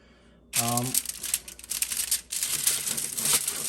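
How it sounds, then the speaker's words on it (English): Tin foil crinkles and crumples under handling in close, continuous bursts of crackly rustling that begin after a short silence, with a brief voice-like tone near the start. "So that's why I got the tin foil here."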